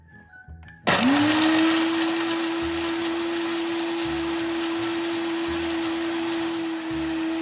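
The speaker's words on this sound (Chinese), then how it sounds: "加一点水，比较好搅拌。" A kitchen blender whirring up to full speed and running steadily while blending soaked dried chilies and dried shrimp with water, loud and close, after a few faint clicks at the start.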